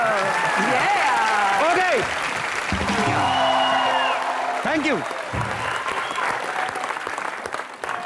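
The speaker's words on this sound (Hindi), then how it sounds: "ओके, जोरदार तालियां फॉर कपिल।" Studio audience applause for Kapil on a live comedy show, steady loud clapping across the clip, with someone speaking over it and music-like tonal bits in places.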